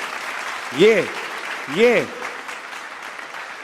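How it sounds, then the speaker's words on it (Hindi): Audience applause at a mushaira in Dubai rises in two short swells beneath a voice, which speaks continuously over the clapping. "भाई तालियां बजा के अब्बास भाई को बताएं यार"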